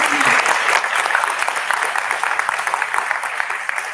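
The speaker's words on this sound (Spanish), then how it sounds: "un gran aplauso para la doctora." Audience applause for a doctor after a talk on standardizing clinical microbiology services, a dense, even wash of many hands clapping that holds steady and loud from start to end, with no voices over it.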